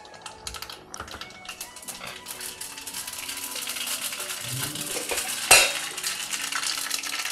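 Mustard seeds fry in a couple of tablespoons of hot oil for tempering, crackling and popping in rapid, dense spatters that grow steadily louder, with a spoon knocking against the pan midway.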